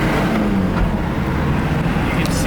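Mitsubishi Pajero engine running, a steady, loud, low rumble close by that holds an even level throughout with no clear revving.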